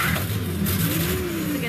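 Mk 1 Ferret scout car at a regimental museum, its engine running with a steady, loud mid-pitched drone and a rising rev toward the end, continuous throughout.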